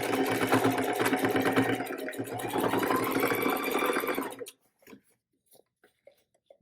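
Close, steady whirring of a sewing machine top-stitching around a drawstring bag for about four seconds, then it stops and a few soft handling clicks follow.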